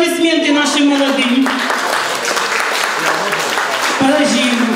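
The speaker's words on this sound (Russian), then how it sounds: "аплодисменты нашим молодым" Guests at a wedding applaud the newlyweds with lively, sustained clapping that runs throughout, while a voice speaks over it.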